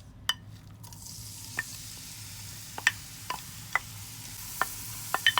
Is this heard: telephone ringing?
no